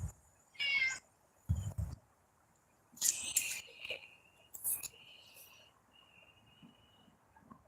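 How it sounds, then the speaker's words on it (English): A pet cat meows several times indoors, close and fairly loud, in short separate cries spread across the clip with quiet gaps and faint background noise between them. "My cat is so stupid."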